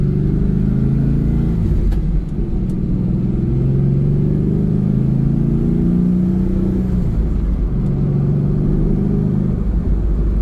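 V8 rumble from a 1999 Pontiac Firebird Formula with a 6.0L engine during a test drive, a deep steady drone with gentle rises and dips as it cruises and shifts, loud and continuous with no talking.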